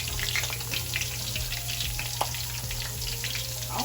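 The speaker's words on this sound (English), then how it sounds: "I'm gonna go ahead and start adding these to the oil" Battered onion rings frying in very hot oil in a pan: a steady, close, bubbling sizzle with small crackles and pops throughout.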